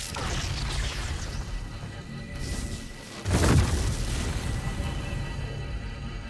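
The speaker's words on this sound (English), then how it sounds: "Why is it just an endless amount of random ass grenades being launched at me?" Grenade explosions in the video game Baldur's Gate 3, a couple of muffled booms with one heavier blast midway over a steady background rumble, moderately loud with no talking.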